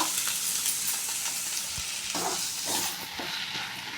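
Onions frying with pepper powder in a pan give a steady close sizzle, with scraping stirring strokes toward the end and no talking.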